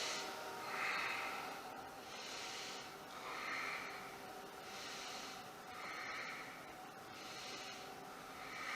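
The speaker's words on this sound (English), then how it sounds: "if you can, we breathe into this pose" Slow, deep breaths during a yoga pose come in a steady rhythm of about five audible cycles, each a soft airy rush that swells and fades, close and fairly quiet.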